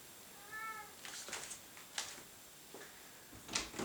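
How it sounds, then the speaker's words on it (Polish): A cat gives a short, close meow, then soft rustling and a few thumps follow, with no one speaking. "do mnie kot przyszedł, przymiałczał"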